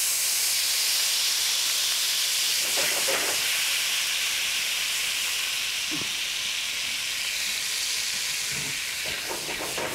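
Vinegar poured into a hot pan of oil for a dressing, a loud, sustained hiss of steam close up, with a few brief clatters of the pan.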